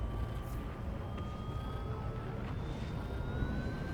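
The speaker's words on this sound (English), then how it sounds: "Engines on." Spaceship engines starting up in the Star Citizen video game, a steady dense rumble with rising whining tones sweeping upward through the whole stretch, continuous and fairly loud with no talking.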